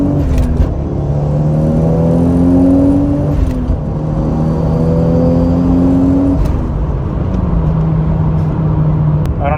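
A turbocharged Toyota Supra pulls hard in second gear, its engine note rising steadily and then shifting in loud, close steps, with a strong rumble underneath and no talking.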